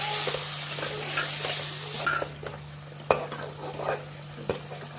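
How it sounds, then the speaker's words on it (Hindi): Yogurt and tomatoes stirred and fried in a pan, a loud hissing sizzle that drops partway through, with scraping spoon strokes and occasional clinks against the pan. "दही डाल के अच्छी तरह इसको हमने भूनना है और फिर हमने भिंडी डालनी है।"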